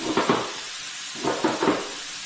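Sweet onion cooking in hot oil is stirred in two pairs of scraping, hissing strokes, each burst of sizzle rising and fading against a soft background.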